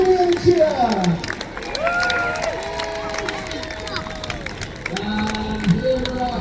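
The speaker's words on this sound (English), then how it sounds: "Give them a cheer" A crowd at the Peasholm Park naval battle show in Scarborough cheers for the backstage crew with a steady outdoor roar of voices, whistles and shouts. Scattered calls rise over the din for the whole stretch.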